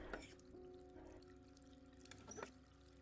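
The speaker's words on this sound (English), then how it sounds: "I turned on the taps" Tap water runs and splashes into a basin in the horror game Layers of Fear 2, a soft continuous pour with brief louder gushes, heard close over a low sustained tone.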